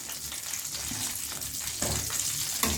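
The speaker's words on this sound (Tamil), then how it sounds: "சிம்மில் வச்சு பொரித்து எடுக்கணும்" KFC-style chicken pieces frying in hot oil over a low flame, giving a steady, dense sizzling hiss that runs the whole time with slight swells and no voices.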